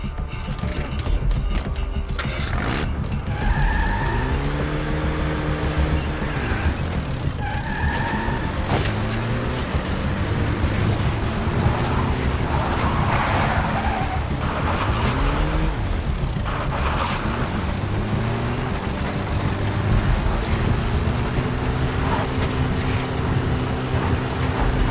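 A support helicopter in Metal Gear Solid V flying in, with a steady loud rotor and engine drone throughout and a slowly shifting pitch.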